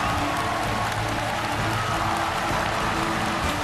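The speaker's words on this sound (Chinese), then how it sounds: "用掌声恭喜我们的小鸭嘎嘎锁定这一轮的第一名。" Audience applause and cheering at a televised singing competition stage show, a steady dense wash of clapping with scattered whoops, held at full level throughout.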